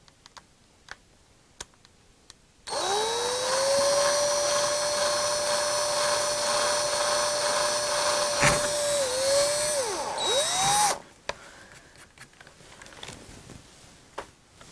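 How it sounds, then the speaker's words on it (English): A small electric drill bores a hole through an arcade circuit board from a Gorf game, a steady high whine running about eight seconds with slight pitch dips near the end, close and loud, framed by quiet ticks and handling before and after. "So I'm going to drill it right here."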